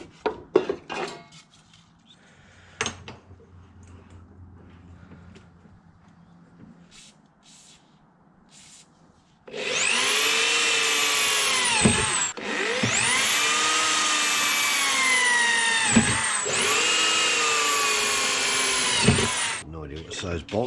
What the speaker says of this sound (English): Cut the steel to length.